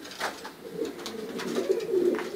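Soft, throaty cooing from pouter pigeons, several rolling calls overlapping at close range with faint background noise.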